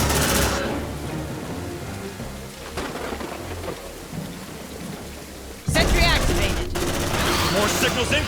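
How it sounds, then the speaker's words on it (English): A Mars 150 defense turret fires in Aliens: Dark Descent, a dense, roaring barrage of rapid shots and blasts that swells sharply louder partway through, with game dialogue mixed in. "The second turret is online and firing."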